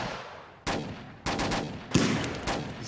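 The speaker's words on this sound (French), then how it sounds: "je crois que c'est des flics sur qui on tire." Gunfire in a French action film scene, police being shot at, bursts in three loud, sharp volleys about half a second apart, each followed by echoing reverberation, with no voices.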